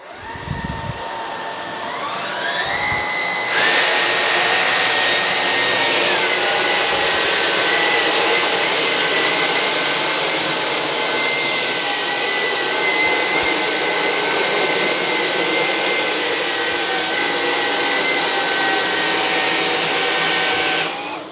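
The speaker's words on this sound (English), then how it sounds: "the next test I want to do, again on the maximum suction, is to vacuum up some cornflakes." Two cordless stick vacuums, a Dyson Gen 5 Detect and a Bosch Unlimited 10, run on maximum suction while picking up cornflakes. A loud, steady motor whine rises quickly in pitch, then holds as a close, continuous roar with faint shifts in tone.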